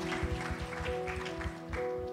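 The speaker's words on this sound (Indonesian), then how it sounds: "Tepuk tangan sekali lagi buat Tuhan Yesus kita." A congregation at a morning prayer service claps in a regular beat over soft, sustained keyboard chords, the claps steady and moderately close.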